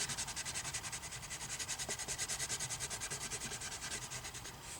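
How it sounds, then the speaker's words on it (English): An orange crayon rubs back and forth across paper in fast, steady strokes, a close, continuous rhythmic scratching that keeps an even pace throughout. "So here I have an orange crayon, and I'm just going to color."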